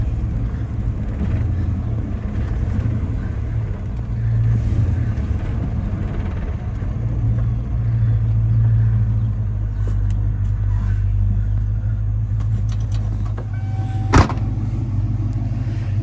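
A Ford SVT Cobra engine idles steadily after its first start, a loud, close, continuous low rumble with slight wavering and one brief sharp knock near the end.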